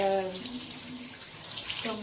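Lukewarm tap water running while rinsing a child's coily hair, a continuous close splashing hiss with a brief voice at the start and end.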